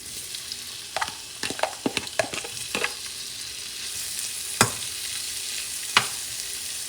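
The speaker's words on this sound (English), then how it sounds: "what I'm going to do now is cook this shrimp" Shrimp cooking in a couple teaspoons of sesame oil for Cantonese scrambled eggs, giving a soft, continuous sizzle punctuated by several sharp spatters and a few louder pops, close and without speech.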